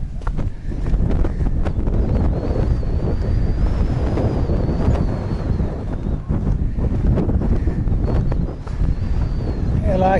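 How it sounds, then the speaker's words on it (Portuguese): Strong outdoor wind buffets the microphone for the full stretch, a loud, steady low rumble with gusty swells, recorded on a trail at dinosaur footprint tracks near Fátima in Portugal, with no clear speech over it. "É lá, está aqui muito vento."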